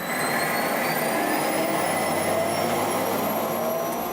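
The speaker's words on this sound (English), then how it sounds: "This is a Bell 212 helicopter, currently 9 seats installed." A steady, loud turbine whine and rushing engine roar of a Bell 212 helicopter, close and unbroken, with high tonal lines sliding slowly.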